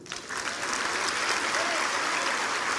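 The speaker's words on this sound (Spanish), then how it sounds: "Un aplauso al Señor." A church congregation applauds steadily during a sermon, the clapping swelling quickly and holding at full strength throughout.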